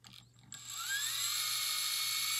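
A Furitek Tesla ESC driving an RC car motor under throttle, a brief click and whir, then a rising high-pitched electric whine that settles into a steady, loud tone.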